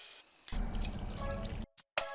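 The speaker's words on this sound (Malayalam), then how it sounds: "ഏകദേശം ഒരു കപ്പോളം വെള്ളം നമുക്ക് ഒഴിച്ചു കൊടുക്കാം" About a cup of water poured into a pan of Kerala-style crab roast: a single steady splashing pour lasting about a second, close and clear, followed by a couple of brief clinks.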